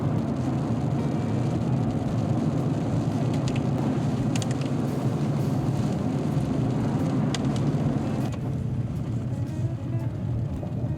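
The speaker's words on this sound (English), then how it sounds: "And it started raining." Steady rain drums on a moving car on a drive back into Columbia Falls, Montana, a dense, even hiss over low road rumble that runs unbroken throughout with no voices.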